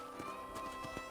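Horse hooves clip-clop at a steady walking pace while riding in the Red Dead Redemption video game, several soft, evenly spaced thuds over a faint background.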